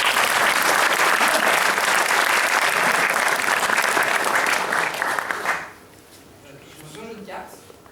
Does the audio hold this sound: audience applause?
yes